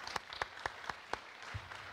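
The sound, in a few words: audience applause at a tech conference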